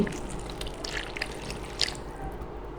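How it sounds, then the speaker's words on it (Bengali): Water poured into a pan of frying spices, ginger and garlic paste with salt, sounds as a short splashing, dribbling hiss that stays faint and close, with no voice over it. "এ পর্যায়ে একটু পানি দিয়ে দিচ্ছি"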